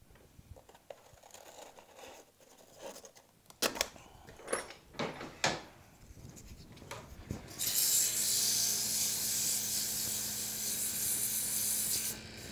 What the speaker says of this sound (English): A little sanding and I'll get that right into place